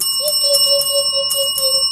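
Bright, clear bell chimes ring out as a subscribe-notification sound effect, with several quick strikes over a sustained ringing tone, loud and close, and no voices.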